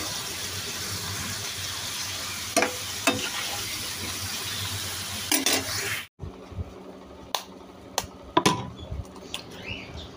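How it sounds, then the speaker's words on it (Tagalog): Onion, garlic and tomato sautéing in a pan, a steady sizzle with a few sharp utensil clicks, then the frying dips abruptly and continues more quietly with more clanks. "Simulan na natin na igisa sa sibuyas, bawang at kamatis."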